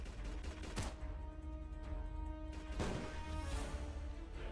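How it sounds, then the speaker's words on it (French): Video game soldiers fire guns in a few sharp shots heard over a constant droning background, with spaced bangs and quieter pops in between. "Oula, ça tire, ça tire."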